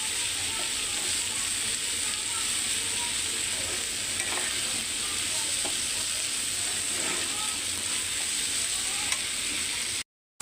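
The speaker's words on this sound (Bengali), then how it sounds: "গাজরটা নেড়ে ছেড়ে আমি আলুটা দিয়ে দেবো" Carrots frying in a pan while being stirred, a steady sizzle with soft scraping movements, close by and continuous, cutting off abruptly near the end.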